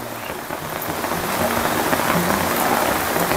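Steady rain pours onto surfaces where Muscovy ducks are raised in the rainy season, a dense, continuous patter that builds slightly and holds at an even, fairly loud level with no talking.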